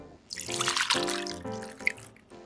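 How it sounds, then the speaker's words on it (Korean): Water dripping and trickling from a block of tofu squeezed in cheesecloth, a close series of small patters and splashes that builds, pauses and resumes briefly. "두부 한 모는 면포에 넣고 꼭 짜서 물기를 빼주세요"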